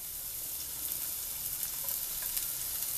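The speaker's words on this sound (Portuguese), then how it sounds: "nós vamos já colocando que já vai dourando o nosso alho" Garlic fries and browns in melted lard in a frying pan, a steady close hiss and crackle with small pops throughout and no talk.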